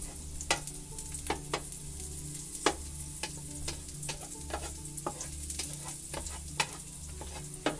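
Ginger and garlic sizzle steadily in a hot pan for a scallop and mussel dish, with a soft continuous fry broken by sharp scraping and clicking stirs at irregular intervals, close and moderately loud, with no voices.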